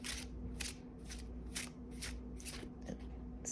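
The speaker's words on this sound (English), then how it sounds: "And then we'll give the other one a bit of a shuffle." A Darkness of Light tarot deck gets an overhand shuffle, about seven distinct papery swishes in an even rhythm, close and fairly quiet with no voices.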